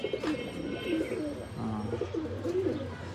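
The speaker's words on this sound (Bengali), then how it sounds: "আমার এগুলো কিন্তু খুব ফেভারিট কবুতর" Pigeons cooing steadily in low, throaty warbling phrases, several overlapping calls close by with a faint background hiss.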